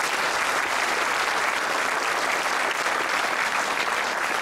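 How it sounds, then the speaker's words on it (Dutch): Dense, steady applause from an audience at a choir competition event in Alblasserdam, many hands clapping continuously at an even level throughout. "En dat verdient absoluut een applaus."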